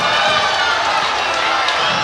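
A partisan crowd at a Karate Combat event chants USA, heard as a dense, steady roar of many voices that fills the arena without pause.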